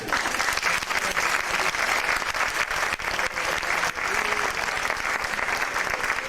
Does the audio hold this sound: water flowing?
no